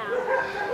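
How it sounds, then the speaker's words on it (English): A beaten, injured dog gives a brief, close, high whimpering yelp, a single strained whine lasting under a second. "This dog was also beaten in the head."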